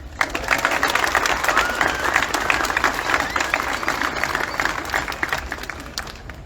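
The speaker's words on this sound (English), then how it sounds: "Let's give it another round of applause." Crowd applause at a grand opening and ribbon cutting for a Stater Bros. Markets supermarket, a steady wash of many hands clapping outdoors that holds evenly through the whole stretch.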